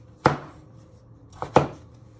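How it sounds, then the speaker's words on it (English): A sharp knife cuts winter vegetables for soup on a board. There are two distinct close chops about a second apart, each a crisp thud followed by quiet. "First, chop it in half."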